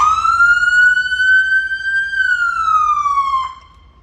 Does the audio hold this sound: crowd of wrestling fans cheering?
no